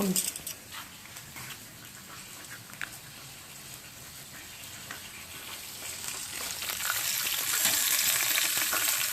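Lobster tails sizzling on the grate of a Weber Smokey Mountain smoker, a steady crackling hiss that swells louder toward the end, with a few faint clanks and a voice speaking briefly in the background.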